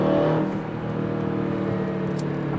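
2023 Aston Martin DBX 707 SUV accelerating hard, its engine a loud, sustained roar heard from inside the cabin, steady with no speech.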